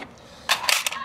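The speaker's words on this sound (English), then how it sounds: "press the magazine release" An AR rifle magazine is released and drops free, a sharp close metallic clack midway followed by a couple of quick rattling knocks.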